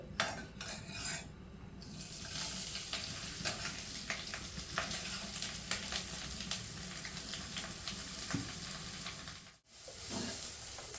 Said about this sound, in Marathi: कढईमध्ये मी एक चमचा तूप घातलेला आहे तर हे खोबरं जे मी किसून घेतले तर हे मी आता यामध्ये घालणार आहे